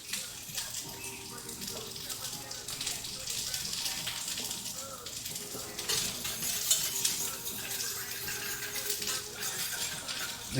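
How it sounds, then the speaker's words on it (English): Butter chunks whisked into a pan sauce, with a continuous scraping, swishing rhythm of the whisk against the pan and a faint sizzle, steady throughout with no talk over it. "The key is the constant whisking to emulsify the butter."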